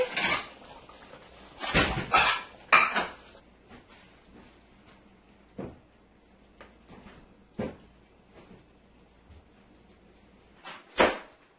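Beef and potato curry being plated in a home kitchen, with close clattering of dishes, a pot and utensils in loud, irregular bursts separated by quieter pauses.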